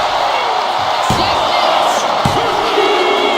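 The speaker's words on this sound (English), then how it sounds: "What a raucous crowd here tonight" Arena crowd noise from a WWE 2K25 wrestling match, Roman Reigns on SmackDown, a steady roar of cheering with a couple of sharp slam thuds, under commentary.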